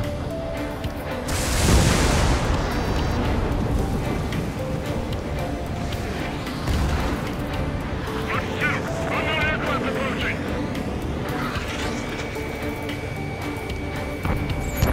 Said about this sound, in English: Firing railgun.